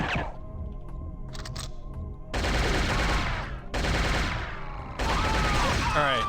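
A rocket weapon fires in the Shogo: Mobile Armor Division video game, giving several loud blasts in quick bursts, each with a sharp onset and a ringing tail, over quieter game ambience.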